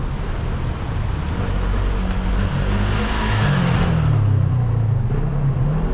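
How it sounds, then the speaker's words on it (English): Dense car traffic streams along a street near Rua dos Ervanários, the Street of the Herbalists, in Macau: a steady, close roadway rumble with engines swelling and fading as vehicles pass, with no one talking. "So many cars."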